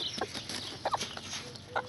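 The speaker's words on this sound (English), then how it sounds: "I think we're going to have a chicken fight." Outdoor chickens near a garden of grapevines give several short, faint clucks scattered over a couple of seconds against a hissy background.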